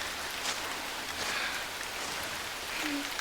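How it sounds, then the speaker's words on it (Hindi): Steady rain falls in a continuous broadband hiss, with soft scattered patter and no voices. "इस मजेदार बारिश का आनंद लो।"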